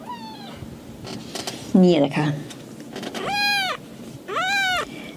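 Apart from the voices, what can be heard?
cat meowing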